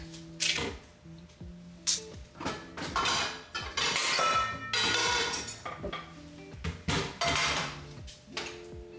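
A metal pot clanks and rattles while being readied for frying oil for homemade donuts, a series of sharp ringing knocks and scrapes spread irregularly over nine seconds, loud and close, no talk.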